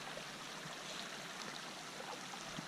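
A river in Banff National Park flows with a soft, even hiss of running water, faint and steady and heard alone.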